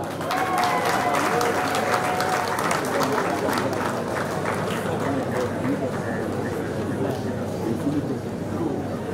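Steady applause from an audience at a diploma ceremony for a master's in laparoscopy, dense clapping sustained throughout with crowd murmur underneath.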